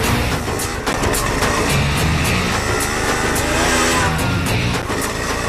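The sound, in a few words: car overtaking on the road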